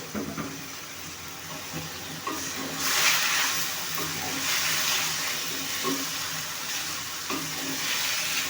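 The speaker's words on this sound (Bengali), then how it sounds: "বাইং মাছগুলো মশলার সাথে খুব ভালো করে কষিয়ে নিব" Steady sizzling of gutchi baim (spiny eel) fish frying with spices in a hot pan, with occasional scraping stirs and bursts of louder crackle.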